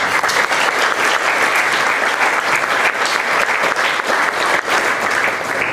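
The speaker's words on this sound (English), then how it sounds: "can we once again a round of applause for Mal and Hugh" A large audience at a statue fundraiser gives sustained, dense, loud applause that holds steady for several seconds without a break.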